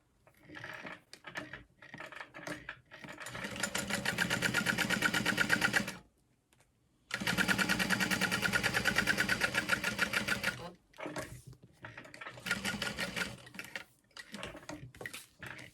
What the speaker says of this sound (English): I'm going to sew that in place.